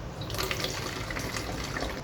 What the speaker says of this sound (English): I'm going to grab some purified water out of my sink.